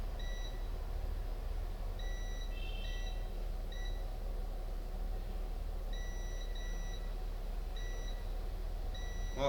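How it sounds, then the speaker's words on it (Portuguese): A multimeter in continuity mode beeps while its probes test capacitors on a Samsung On7 phone board with a current leak. It gives a series of short, sharp electronic beeps in irregular bursts over a steady low hum. "Ó, já temos um capacitor bipando."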